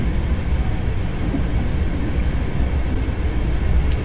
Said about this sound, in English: And this is the last train home.